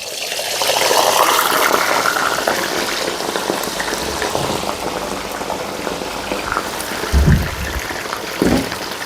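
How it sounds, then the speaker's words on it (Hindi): A whole chicken, Lahori chargha style, deep frying in hot oil: a steady, loud, dense sizzle and bubbling throughout, with a couple of brief low thumps near the end. "ऑयल हमारा गर्म हो चुका है। इसके अंदर बिस्मिल्लाह रहमान रहीम ले जी, इसको हम पकड़ेंगे। बड़े आराम से इसको हमने डीप फ्राई करना है।"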